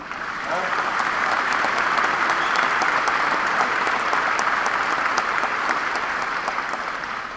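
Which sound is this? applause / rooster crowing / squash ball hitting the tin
applause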